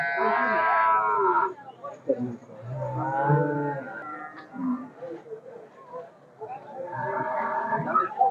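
Cows moo repeatedly at a livestock market, long, loud, drawn-out calls near and far with short quiet gaps between them, and some people speak in the background.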